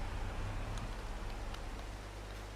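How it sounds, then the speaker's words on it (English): Rain falls in Farming Simulator 22 as a soft, even hiss with faint scattered drop ticks over a low steady hum, continuous and fairly quiet. "So it started raining now"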